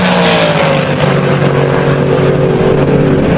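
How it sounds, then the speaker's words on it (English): A drag racing car at a Sick Week 2024 event roars loudly and steadily with engine drone and broad noise as its tires spin, a continuous dense wash with no pauses and no talk. "And Houston spins the tires."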